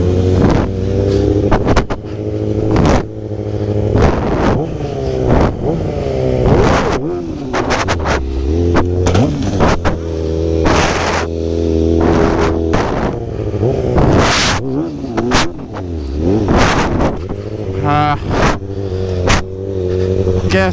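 A stunt motorcycle revs hard and repeatedly under throttle, loud and close, with rising and falling engine pitch, wind buffeting and a voice speaking at times over it.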